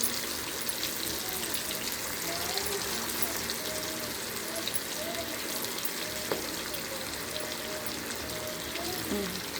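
Fish frying in oil with curry leaves to be added, a steady close sizzle and crackle running throughout with faint clinks, no talk over it.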